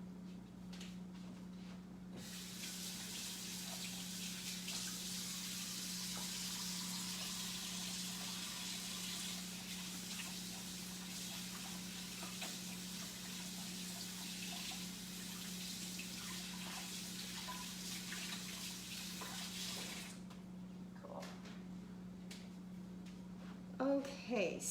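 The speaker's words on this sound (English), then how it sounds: "Let me wash my hands" Water runs steadily from a kitchen tap for about eighteen seconds while hands are washed, a continuous hiss over a low hum, then cuts off, followed by a few soft clicks.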